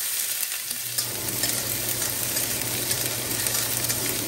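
Chopped tomato, ginger and garlic with a whole green chilli fry in oil in a pan for a Bengali-style egg omelette curry, giving a steady, close, crackling sizzle that runs unbroken throughout, with soft stirring scrapes and no voices.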